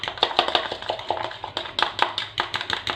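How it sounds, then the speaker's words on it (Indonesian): Crispy fried egg batter being whisked by hand in a bowl, a quick irregular run of light clicking and tapping strokes, close and fairly loud with no talk. "dikocok terus ya sampai si adonannya encer gini nih"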